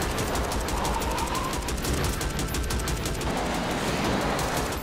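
Rapid bursts of gunfire in an action film, dense continuous shots crackling over a noisy movie soundtrack for several seconds.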